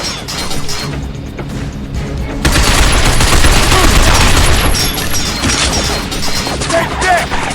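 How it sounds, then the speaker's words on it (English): Sustained rapid machine gun fire in the shooter game Binary Domain, a dense rattling barrage that swells after a brief quieter stretch and stays loud throughout, with crashes and impacts mixed in and no one talking. "Dan, watch out for that machine gun fire."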